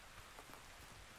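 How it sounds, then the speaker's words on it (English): Steady rain falling in the survival game Ark Survival Ascended, a soft continuous hiss of drops that stays even and faint throughout, with no talking. "Rain. We'll take the rain."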